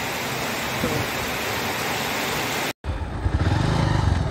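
Heavy rain pours in a dense, steady roar; after a brief cut, the downpour continues with a low rumbling underneath.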